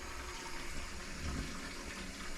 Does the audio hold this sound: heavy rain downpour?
no